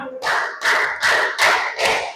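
Hands clapping in a classroom: five loud, evenly spaced claps in steady rhythm, close and crisp, with a count called out between them.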